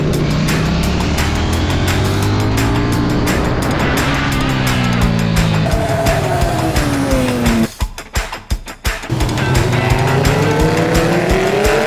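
A KTM Duke 790 motorcycle on a racetrack at Castelletto drones loudly and shifts pitch continuously, revving up and down through gears, with a brief dip in the roar partway through.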